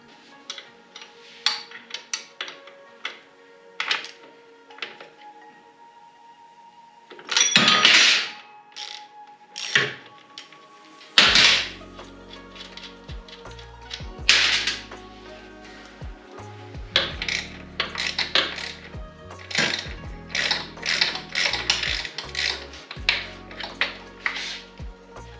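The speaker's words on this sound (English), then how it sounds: "get those loose, get the nuts off of them, and then try and get the bolts out" Bolts and nuts being loosened on a race motorcycle's suspension, with rapid ratchet clicks, metallic clinks and taps, and a few louder clunks and rubbing scrapes, close by with no speech.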